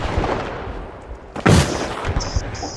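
One sharp, loud sniper shot cracks out in The Finals, a single close report with a short echo over low game background noise.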